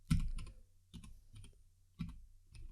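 Typing on a computer keyboard during a hockey channel review, heard as close, quiet bursts of key clicks in three or four short clusters with pauses between them, without any talk.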